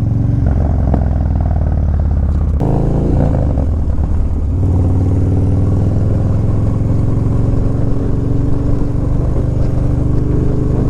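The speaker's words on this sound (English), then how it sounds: "God, I miss that exhaust sound." Motorcycle engine and exhaust on a first ride of the season, idling with a deep rumble, then a sharp blip and revving that settles into a steady loud drone close by, with no talk.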